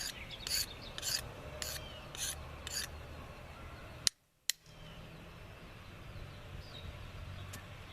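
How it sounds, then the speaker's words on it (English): An edge scraping and shaving a Duracoat finish in short rasping strokes, a run of distinct scrapes at first, then quieter continuous rubbing after a brief silence and two sharp clicks. "I'm just doing some shaving on it now with the edge."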